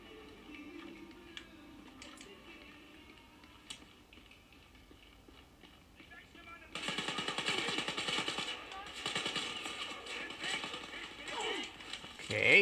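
Rapid automatic rifle fire in the shooter game Wolfenstein: Youngblood, a dense rattling burst of shots that starts partway through and continues loudly to the end over quieter game ambience.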